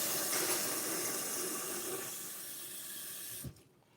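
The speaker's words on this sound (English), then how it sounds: "now I'm going to cut on cold water, refill that" Steady rush of cold water pouring from a tap into a sink for several seconds, then cut off abruptly near the end.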